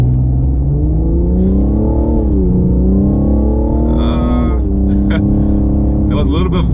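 A 2020 Cadillac CT5-V with a 3.0-litre twin-turbo engine pulls hard from inside the cabin, its steady engine drone rising in pitch, dipping briefly at a shift, then climbing again under a loud, unbroken rumble.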